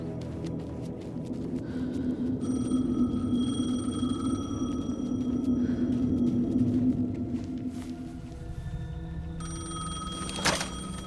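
A payphone rings in the video game Alan Wake 2, a repeated electronic ringing tone over a low rumbling ambience, fading near the end before a brief sharp knock.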